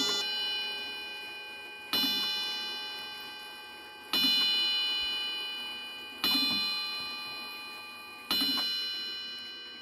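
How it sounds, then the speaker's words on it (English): A collection clock sounds a gong chime, struck five times at an even interval of roughly two seconds, each strike ringing on and slowly fading, with a faint mechanical ticking running underneath. "That's the St. Thomas Cathedral gong."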